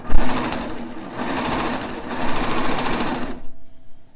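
A sewing machine stitching gathered fabric for a bodice under the presser foot, a fast loud whirring run in two bursts that stops abruptly near the end.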